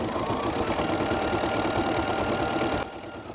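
An embroidery machine stitches a satin stitch on a shoe bag, a loud, steady mechanical whir of rapid needle strokes that runs continuously for nearly three seconds, then cuts off into a quieter hum.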